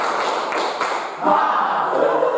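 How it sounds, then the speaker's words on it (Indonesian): A classroom of students claps out a counted rhythm pattern, a few loose group claps followed by a denser flurry of hand claps close by. "Coba tepuk 1, tepuk 2, jos, tepuk 3."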